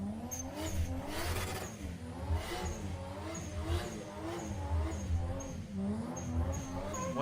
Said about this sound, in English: That's an old school Burnout.